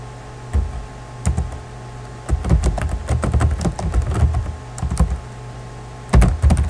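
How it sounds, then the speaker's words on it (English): Typing on a computer keyboard comes in short bursts of rapid, crisp key clicks separated by pauses, close and fairly loud, with no talking. "So if I type in"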